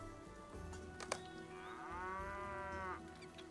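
A cow moos in the Lord of the Rings Online video game, one long, low, drawn-out call rising and falling over a steady game ambience with some small background clatter.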